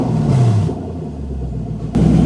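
A Lexus LS400 engine idles with no exhaust fitted, giving a steady low rumble with a brief rev at the start and another as the clip ends.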